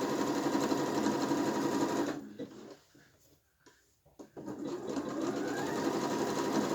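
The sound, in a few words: sewing machine stitching t-shirt with twin needle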